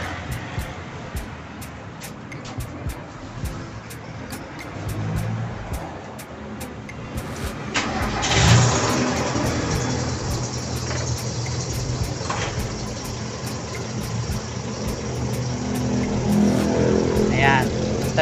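A Toyota 4K carbureted car engine turns over and catches partway through, then settles into a steady running rumble at about 750 RPM idle, with a voice talking over it.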